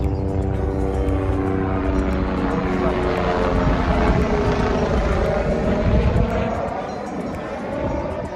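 A helicopter flies along the Kedarnath trekking route in the mountains, its engine and rotors drumming in a loud, steady drone that fades slightly near the end, with voices faintly underneath.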